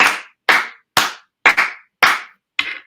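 An audience claps together in a steady rhythm to honour the production team at a student recognition event, about six crisp group claps roughly half a second apart, some slightly ragged, loud and close with no voices.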